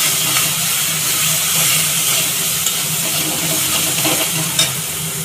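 Taro greens sautéing in a hot pan with a little chili powder give off a loud, continuous sizzle and hiss, with an occasional stir and no talking.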